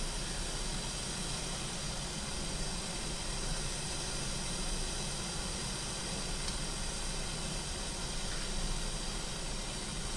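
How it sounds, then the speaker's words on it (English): Steady, even hiss of steam onto a flat baseball cap visor runs unbroken throughout, close and moderately loud with no other sounds. "I'm just letting the flat visor absorb some of the steam right now."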